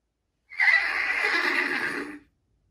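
A horse neighs once in a game for small children, a single clear whinny lasting under two seconds, close and alone with no talk.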